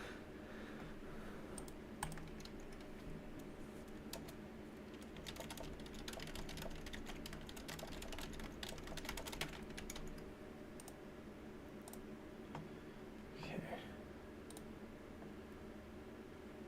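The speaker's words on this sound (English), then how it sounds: "I'm just typing." Fast, steady typing on a computer keyboard, with dense bursts of key clicks for many seconds over a faint hum of room noise and no talking.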